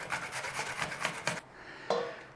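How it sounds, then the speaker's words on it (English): A red apple, skin left on, rubbed back and forth against a kitchen grater in a quick run of about seven rasping strokes, close and fairly loud, then a pause and one last scrape. "Just give it a grating. Whiz it all the way around."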